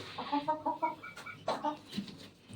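Hens clucking after one has laid an egg, a series of short, choppy, fairly close clucks and cackles in uneven bursts, with no talk over them.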